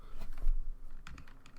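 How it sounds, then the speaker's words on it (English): Quick taps on calculator buttons while working out a maths problem, a short run of close, light clicks with a brief pause between bursts. "Typing this in on a calculator,"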